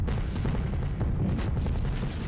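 Flak from anti-aircraft guns bursts around a B-17 Flying Fortress bomber in a flight game, a dense, continuous rumble of overlapping low booms and pops that stays loud for the whole stretch, with no voices.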